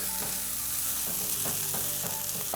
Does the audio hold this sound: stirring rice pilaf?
yes